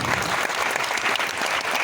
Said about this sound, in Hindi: एक बार खुद के लिए, हिंदुस्तान के लिए और मेरे लिए ताली बजा दीजिए।